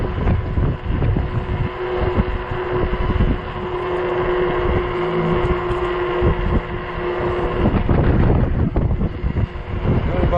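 Strong, roaring wind gusts buffet the microphone while riding a 20-inch 48V Ecotric fat-tire e-bike at about 19 mph on a warm day, a steady loud rush with surging gusts throughout.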